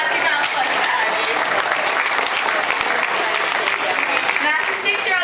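Loud, sustained audience applause at a dolphin and seal show, a thick wash of many hands clapping with crowd noise and a voice talking over it.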